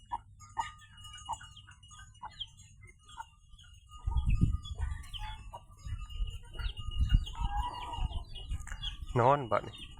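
A hen with her chicks clucking nearby, soft scattered clucks and high peeping calls spread across the clip, with a louder rustling and a short burst of calls near the end.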